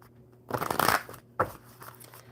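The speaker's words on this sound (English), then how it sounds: "So let's shuffle this oracle for you." A deck of oracle cards is shuffled during a live coffee-and-cards session, giving a longer riffling burst followed by a second shorter flurry of papery card sounds, close and clear with no talking.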